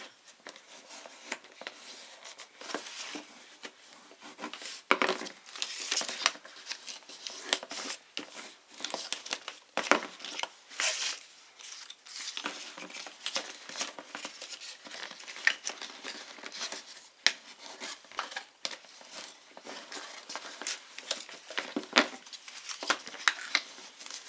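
A paper cutout being folded up: faint, close crinkling and crisp paper creases in irregular bursts, with soft rustling and small taps throughout, no talking.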